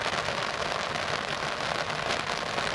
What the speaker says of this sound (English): Waiting until the rain has stopped. It's come on even worse now.